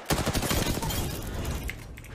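Rapid, dense gunfire from a fight in Apex Legends, a sustained volley of overlapping shots that stays loud for about two seconds with no pause.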